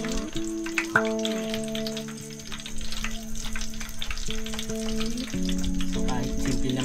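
Food sizzles and fries in a pan at a mountain campsite in Bangkong Kahoy Valley, a steady close crackle with occasional stirring, while faint music plays underneath.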